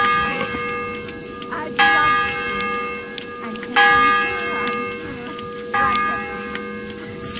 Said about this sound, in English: wouldn't you like to have a little ring on the bell?